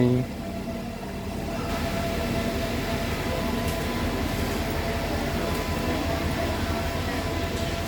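Train noise fills Chiang Mai railway station: a steady, fairly loud rumble and hum of rolling stock and platform ambience, continuous throughout, with faint voices in the background.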